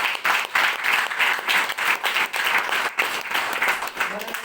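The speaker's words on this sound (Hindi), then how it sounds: "जोरदार ताली होनी चाहिए।" A Hindi-speaking audience at a business marketing seminar bursts into loud applause, many hands clapping in a strong, pulsing rhythm that swells and dips close by over several seconds.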